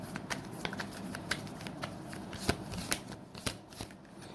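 A deck of tarot cards is shuffled by hand close by, a soft, quiet riffle of rapid flicks with sharper snaps at irregular intervals.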